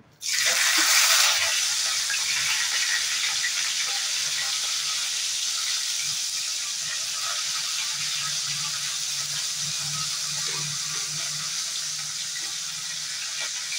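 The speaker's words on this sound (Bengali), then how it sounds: "গোটা মশলাগুলোকে ফোড়নে দেওয়ার পর ভালোভাবে ভেজে নেব।" Cardamom pods, cumin seeds and cinnamon sticks fry in hot oil, starting with a sharp burst of sizzle that settles into a steady, loud hiss with faint crackles underneath.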